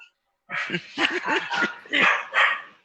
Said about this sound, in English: Joey, do you want to take care of the dog, or should I?